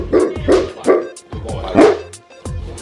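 A Neapolitan Mastiff or African Boerboel barks in deep, loud, close bursts, about five barks spread unevenly with short pauses and a low whimpering tone between them.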